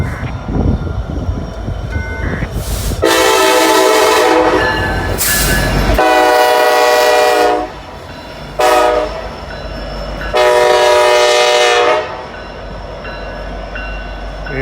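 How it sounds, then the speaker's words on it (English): An Amtrak passenger train passing at Gallitzin, Pennsylvania, sounding its horn in long loud blasts over the rumble of the passing cars, the horn repeating in several bursts with a short toot between them. "And Amtrak's nearly here."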